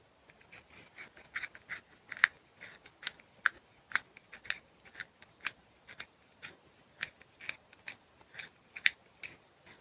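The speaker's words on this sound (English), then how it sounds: "Let's sharpen this a little bit." A black eyeliner pencil is twisted in a small handheld sharpener, giving a quick run of soft, regular scraping strokes, close and quiet, with no voices.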